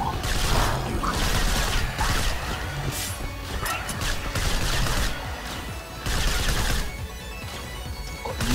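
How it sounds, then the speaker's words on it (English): Rapid bursts of gunfire from the first-person shooter STRAFE, loud and dense with crashing impacts, continuing in waves over several seconds with brief lulls. "I'm just going to start firing"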